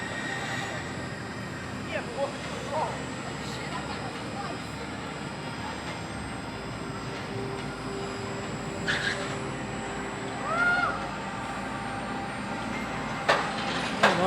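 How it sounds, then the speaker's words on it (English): Empty Hyperia roller coaster train running during testing, with faint distant rumble and occasional squeaks under a steady outdoor background of crowd noise and voices. "So here the empty train goes again with engineering on it."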